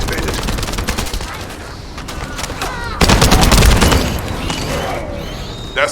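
Loud, rapid bursts of video game gunfire rattle continuously, intensifying into heavier volleys midway with booming impacts.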